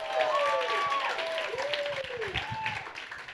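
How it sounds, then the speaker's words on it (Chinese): A church audience at a youth camp gathering applauds warmly, with high screams and whoops gliding over the steady clapping. The crowd noise stays full and continuous for a few seconds. "再一次的热烈掌声加尖叫声！"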